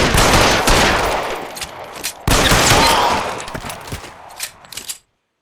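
Rapid, loud gunfire in an L.A. Noire police shootout, nearly continuous volleys with a brief break before another burst, then the shots thin out and stop abruptly.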